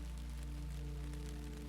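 Continuous rain pours down in an unbroken wash of hiss over a steady low drone, evenly loud throughout with nobody speaking.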